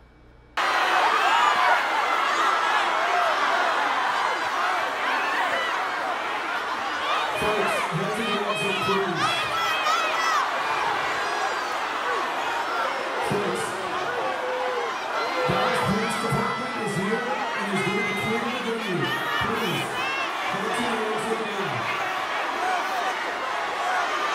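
An agitated concert crowd after a canceled show fills the space with loud, continuous shouting, cheering and yelling voices, swelling in bursts of nearby hollering over a dense roar.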